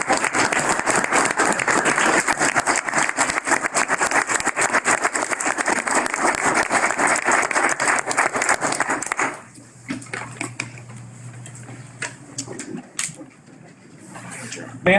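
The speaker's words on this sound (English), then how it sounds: "could I make a motion for a round of applause for Dawn and Seth as well?" Round of applause at a school board meeting, a room of people clapping steadily for about nine seconds before it cuts off abruptly, leaving quiet room hum, a few small clicks and brief speech.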